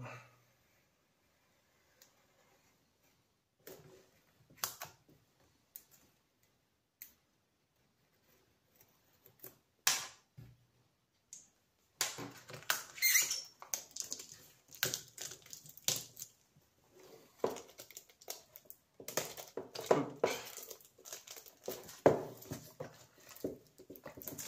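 Careful cutting and unwrapping of the sealed shrink-wrap on a never-opened 1983 boxed game, faint at first with sparse clicks, then a busier stretch of crinkling plastic and scraping close by.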